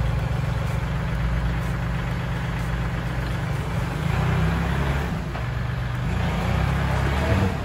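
A Kubota L3608 four-wheel-drive tractor with a front blade idles nearby, a steady low diesel rumble with a fast, even pulse that holds throughout.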